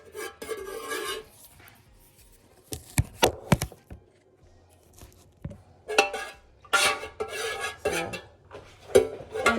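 Stirring melted beeswax candle mixture in a pot, with bursts of scraping and clinking of a utensil against the pot separated by quieter pauses, close and moderately loud.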